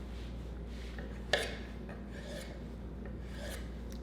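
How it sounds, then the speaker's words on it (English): A kitchen knife scores a ripe mango half into cubes, making soft, close rasping scrapes through the flesh with one sharp tap of the blade. The sounds are quiet against steady room hum, and no one talks. "I can cube it, come here like this, right? Cut one way,"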